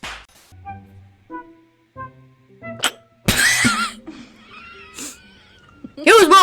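A cat meows in a few short, rising calls near the start, then people laugh and talk loudly over it.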